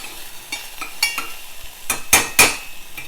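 Onions browning in a pan while a utensil stirs them, with a steady low sizzle under a few sharp scrapes and clinks that grow louder toward the end, no voices.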